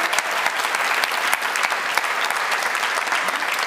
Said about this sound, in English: I'd like to ask you all to join me in a round of applause to welcome Emma